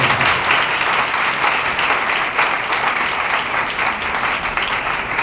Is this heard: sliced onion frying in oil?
no